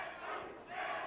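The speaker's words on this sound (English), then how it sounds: "The crowd taking up the chant, Teddy Sue, Teddy Sue." A wrestling arena crowd chants in unison for Ted DiBiase, a distant, roaring swell of many voices that rises and dips over the moment.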